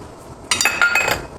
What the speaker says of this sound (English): So I am just stirring it a little bit.